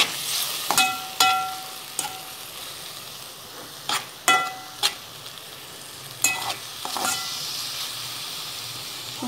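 Liver frying in a pan with pepper and salt, a soft steady sizzle broken by several sharp clinks and scrapes from stirring; no talk.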